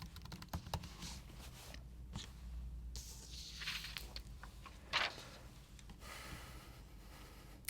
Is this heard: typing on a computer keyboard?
yes